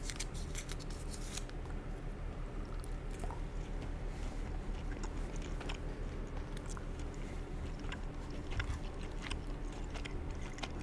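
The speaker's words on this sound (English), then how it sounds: "I'm gonna be chewing on some gum, so let's get that started." Close, steady mouth sounds of Trident gum being chewed for ASMR, with moist clicks and squishes running continuously and evenly throughout, without talk.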